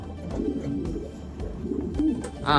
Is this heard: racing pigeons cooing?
yes